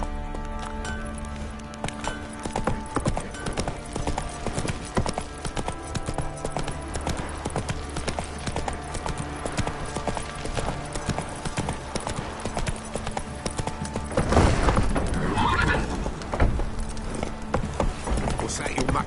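Horse hooves clip-clop steadily and up close through a stretch in The Witcher 3, with buzzing insects and ambient game sound around them, swelling briefly louder midway; no clear neigh stands out.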